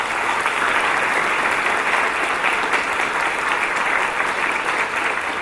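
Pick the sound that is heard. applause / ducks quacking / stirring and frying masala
applause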